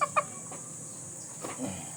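A chicken gives a few short, soft clucks close by, with brief pauses between them against a faint steady hum.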